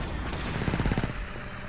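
Rapid bursts of blaster-style gunfire in Star Wars Battlefront 2 on the Xbox 360 Battle of Mygeeto map, a quick rattling volley that swells at the midpoint and then tapers, heard alone with no talk over it.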